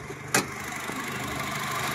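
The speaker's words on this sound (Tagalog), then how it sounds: "kung gaano naman kaswabe yung engine nito mga bossing" A 2018 Honda Jazz GK idles with a steady, smooth hum under the open hood, broken by one sharp click near the start, with no voices present.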